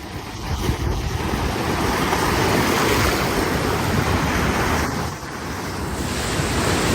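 Ocean waves roll onto a beach in Portugal where surfers wait, a steady loud wash of surf blended with gusty wind noise across the microphone, with no talking.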